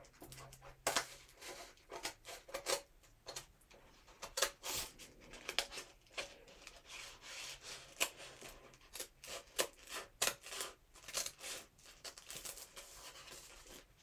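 Quiet, close snips and crinkles of scissors cutting eye holes in a mask, in short irregular bursts with paper-like rustling between cuts.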